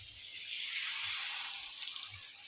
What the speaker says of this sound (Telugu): కొద్దిగా ఇందులో వాటర్ యాడ్ చేసుకోవాలి.